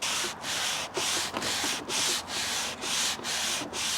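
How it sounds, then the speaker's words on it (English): Rhythmic hand sanding on an old wooden tea table, eight even back-and-forth strokes with brief pauses between, close and steady. "I'm going to continue sanding for a bit and see if I can reduce this mark somewhat"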